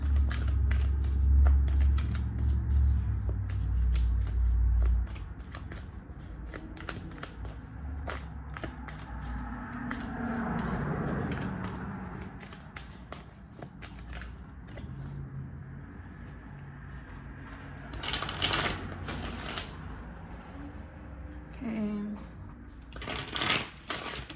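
Tarot cards are shuffled by hand in a close, quiet room, making dense papery riffling and flicking that comes and goes in bursts for much of the time, with a few sharper snaps near the end.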